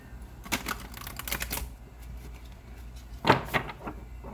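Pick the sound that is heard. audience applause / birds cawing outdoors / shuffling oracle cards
shuffling oracle cards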